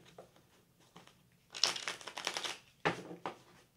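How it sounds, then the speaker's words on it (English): A deck of cards is shuffled for a psychic reading, giving two quick riffling bursts of crisp card flutter close by, separated by soft handling sounds, with no talking. "Gonna do another shuffle here."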